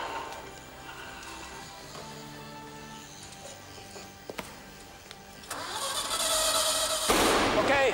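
A Ferrari race car engine cranks and fires up after a quiet stretch broken by a few sharp clicks, swelling into a loud, rough roar over the final seconds.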